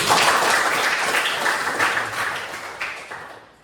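Students applaud in class, with a dense burst of clapping that holds strong and then thins out and fades toward the end.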